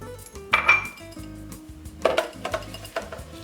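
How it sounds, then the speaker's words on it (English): A few clinks and knocks as raw vegan pesto ingredients drop into a blender jar, with quiet kitchen clatter in between. "And we're going to put everything directly into our blender."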